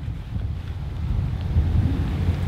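Wind blowing across a golf course: low, steady rumbling gusts buffeting the microphone, close and continuous with no other sounds.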